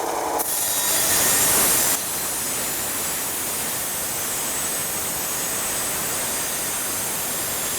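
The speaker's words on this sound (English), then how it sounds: "Using a tile saw is really pretty simple." A wet tile saw cuts through ceramic tile with a steady, loud, close grinding whine that runs unbroken, rougher and louder for the first couple of seconds before settling.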